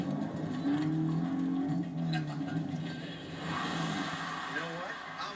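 A stock car engine fitted with an Edelbrock E-Force supercharger, running before boost builds, gives a steady low hum and a few rising pitch sweeps from inside the cabin while people talk.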